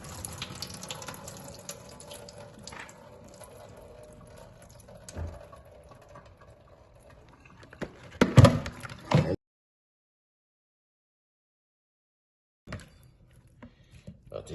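Tap water runs into a sink as goat meat is washed, a continuous splashing rush with handling clatter that stops abruptly partway, followed by silence and then a brief resumption.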